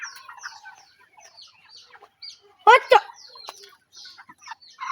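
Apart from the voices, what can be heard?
chicken clucking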